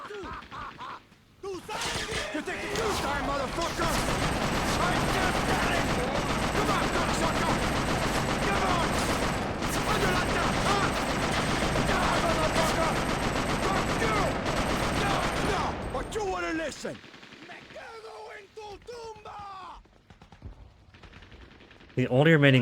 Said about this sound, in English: Somebody's actually shooting.